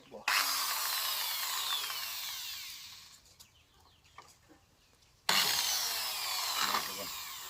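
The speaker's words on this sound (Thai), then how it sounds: "ต่อไปเป็นการเจาะรูติดร่มครับ" A drill bores a hole through a small homemade bamboo-style rocket to attach its parachute, a close whining grind in two bursts separated by quieter handling noises.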